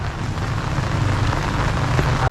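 Steady rain patters down in a narrow alley, a dense close hiss of drops on surfaces, constant for the whole brief stretch with no talking.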